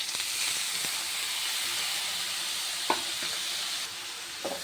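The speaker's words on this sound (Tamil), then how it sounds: "இந்த ஸ்டேஜில் நம்ம எடுத்து வச்சு முட்டை போட்டு ஆட் பண்ணிக்கலாம்" Steady close sizzle of egg frying with onions in a pan for a cabbage stir-fry, with a couple of faint utensil knocks over the continuous hiss.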